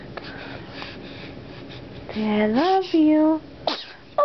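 A baby gives a small sneeze followed by squeaky, wheezy vocal sounds, close and fairly loud, with an adult talking softly before and around it.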